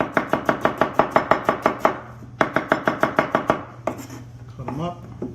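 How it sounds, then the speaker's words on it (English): A knife chops onions on a cutting board in rapid, even bursts of sharp taps, two runs of about a dozen strokes each, close and clear, ending with a few softer scraping sounds. "we're going to cut these onions pretty small, pretty thin"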